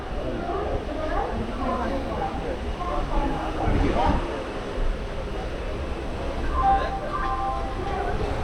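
Sleeper class train carriage in India rolling toward Chennai, crowded with commuters: a steady low rumble and rattle fills the car, with indistinct murmuring voices mixed in throughout.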